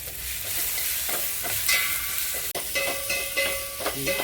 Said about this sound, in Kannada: ಲೋ ಫ್ಲೇಮಲ್ಲಿ ಹುರ್ಕೊಳ್ಳಿ ಇವಾಗ ಎರಡು ನಿಮಿಷ ಇದು ಎಣ್ಣೆಲಿ ಫ್ರೈ ಆಗಿದೆ